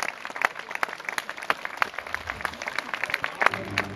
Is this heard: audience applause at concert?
yes